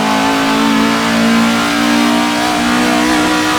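A Vanwall Grand Prix race car engine screams loudly and close in Assetto Corsa, holding a high, rising rev with a slight dip as it shifts, a steady tonal whine throughout.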